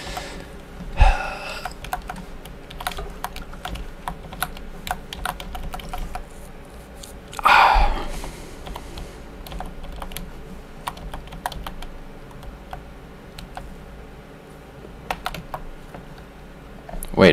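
Keypad code entry in the Alien Isolation video game, with short clicky taps scattered across the clip and one louder burst near the middle, set over a steady low ambient hum.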